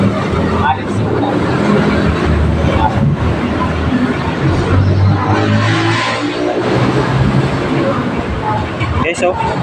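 A Honda ADV150 motor scooter fitted with a new exhaust pipe rumbles loudly and continuously nearby, its low engine drone steady throughout while a voice talks over it.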